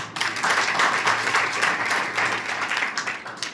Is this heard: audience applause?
yes